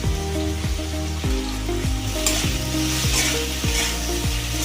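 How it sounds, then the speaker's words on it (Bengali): Tilapia fish with eggplant and potato frying in oil, a dense close sizzle broken by regular scraping stirs roughly every half second, no talking. "একটু ভালো করে ভেজে নেবো।"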